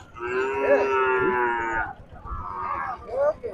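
A heifer calf moos loudly nearby at a cattle market in Chuadanga, Bangladesh, in a long drawn-out call, followed by a shorter, rougher second moo, with faint background noise.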